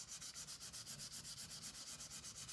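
Sandpaper dipped in finishing mixture is rubbed along the grain of a wooden gun stock in quick, even back-and-forth strokes, a soft rhythmic scratching up close with no voices.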